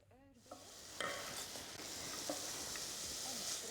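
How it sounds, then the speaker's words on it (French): Finely sliced onions sizzle in melted butter, starting with a sudden hiss as they hit the pan and settling into a steady, moderately loud frying sound with a few stirring scrapes. "Faites fondre le beurre et ajoutez les oignons finement émincés."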